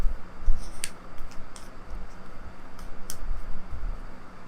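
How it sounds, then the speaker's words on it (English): Soft papery riffling and a few sharp flicks of tarot cards being shuffled, close and fairly quiet over a low background hiss. "I need to shuffle more into this deck."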